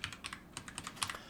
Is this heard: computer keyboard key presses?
yes